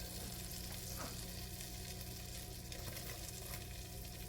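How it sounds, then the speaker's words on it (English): Butter melts in a preheated pan, giving a constant soft sizzle and bubbling hiss, faint and steady from start to finish with no voices. "Butter melting a little bit."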